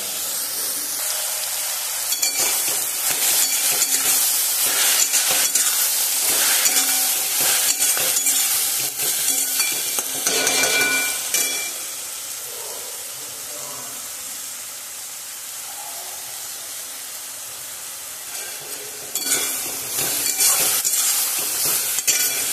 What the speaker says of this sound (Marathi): आता हे तुपामध्ये छान मऊ शिजेपर्यंत फ्राय करून घ्यायचं